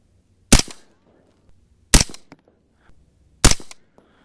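Three evenly spaced, loud, sharp rifle shots from a Uintah Precision UPR15 in .223 Rem firing 77-grain Sierra loads outdoors, each a close crack with a short decaying tail and faint echo.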